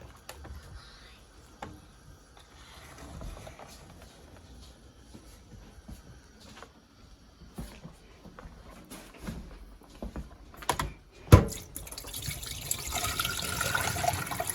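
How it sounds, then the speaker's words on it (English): Running water from a tap splashing steadily over Dungeness crabs being rinsed, getting louder and fuller toward the end with some clattering handling sounds. "So we'll give them a good rinse with some cold water."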